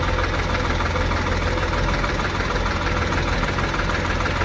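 A tractor engine idles nearby in a continuous loud, low rumble with a steady knocking throb and no pauses, alone without talk.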